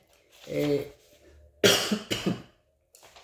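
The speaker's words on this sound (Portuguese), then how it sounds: "eu estou sujeito a de vez em quando ter que tossir um pouco aqui" A short throaty cough bursts out after a brief voiced sound, followed by a couple of smaller coughs, close and fairly loud.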